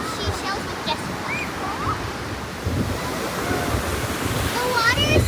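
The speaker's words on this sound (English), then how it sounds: "Oh, look at a wave is coming." Ocean waves washing in at a beach, a steady broad wash with wind buffeting the microphone, swelling louder toward the end, with faint high-pitched squeaks over it.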